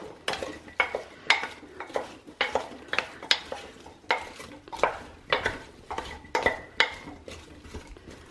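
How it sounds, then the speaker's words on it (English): A utensil stirs a beef roast with vegetables in a Kambrook slow cooker pot, giving a series of close, rhythmic scraping and clinking strokes about every half second, alone without talk. "I'll give it a stir."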